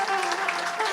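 Hall audience claps in welcome for holy guests at a live Hanumat Katha religious discourse at Maa Durga Dham, a brief steady patter of clapping with no voice over it.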